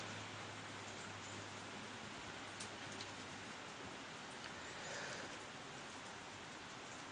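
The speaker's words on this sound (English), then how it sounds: "You can hear the rain on our metal roof." Steady, dense patter of rain drumming on a metal roof, constant and unbroken for the whole stretch, with no voices.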